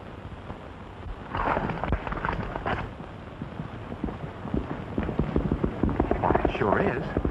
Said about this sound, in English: There's your horse.